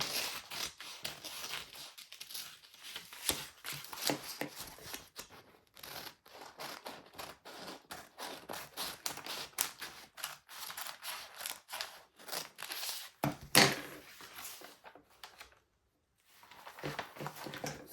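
Scissors snip through fabric while cutting the armhole area of a shoulder dart bustier, giving a long run of quick, close, crisp cuts in an irregular rhythm with a brief pause near the end, with no talk.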